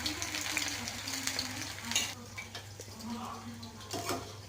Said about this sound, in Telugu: ఇప్పుడు స్పూన్తో కొద్దిగా తీసుకొని వేడి ఆయిల్లో వేస్తున్నానండి